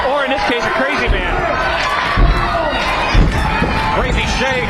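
A crowd cheers and shouts at a Phoenix Pro Wrestling event, a steady roar with a few louder swells. Commentators talk over the noise the whole time.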